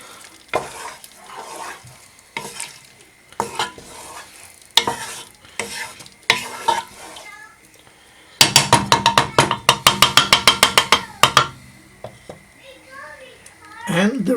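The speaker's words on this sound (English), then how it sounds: "And we're going to give it a last stir." A pot of rajma masala is stirred, with scraping and clattering strokes that turn into a rapid burst of loud, repeated knocks midway. A voice talks over the stirring in the earlier part.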